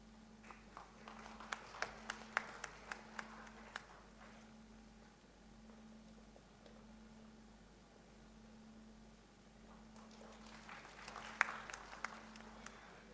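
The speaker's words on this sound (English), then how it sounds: "Let's give the children a huge round of applause and wish them all the best for the future." Sparse, faint clapping for children at a subdivisional court opening event in Chandil and Nagar Untari. The claps come in two scattered bursts over a steady low hum, with quiet stretches in between.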